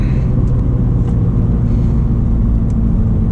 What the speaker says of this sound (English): Let's do a third gear pull.